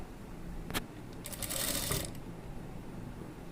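A sewing machine runs a short burst of stitching through a folded fabric hem: a quick whirring rattle lasting under a second, preceded by a single click, against a quiet room.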